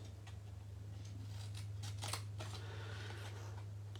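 Scissors cut through navy cardstock in a few quick, faint snips over a low steady hum, with no talking.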